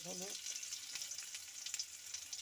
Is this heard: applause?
no